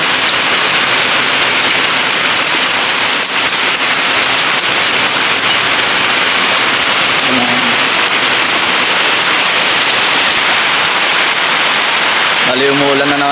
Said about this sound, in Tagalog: Bali umuulan na naman po ngayon mga ka-adventure.